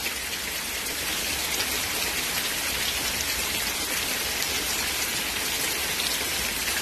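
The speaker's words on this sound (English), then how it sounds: "Now listen to the rain." Summer rain pouring down on a hot day, a dense, constant patter of drops striking surfaces, loud and unbroken throughout with no voices.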